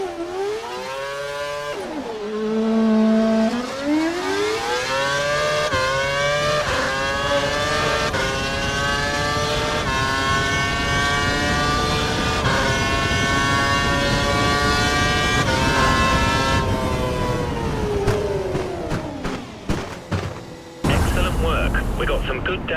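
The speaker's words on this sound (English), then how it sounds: "Head down the track, accelerating past 257 kph, then brake so that you come to a complete stop in the designated area." A Formula One car in the F1 2012 game, engine locked to a lean setting, howls as it climbs through its gears on a straight. The pitch rises steadily, then falls away as it brakes to a stop, under a voice.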